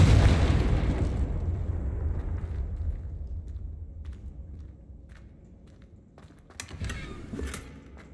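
A Confringo spell blast in Hogwarts Legacy: a loud, booming explosion at the start that rumbles and slowly fades, followed later by scattered crackles, thuds and smaller impacts.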